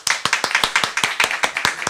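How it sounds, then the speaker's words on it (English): Sparse, lackluster clapping from a small live audience: distinct individual hand claps in an uneven rhythm, fairly close, with no voices over them. "Oh, round of applause for your kids."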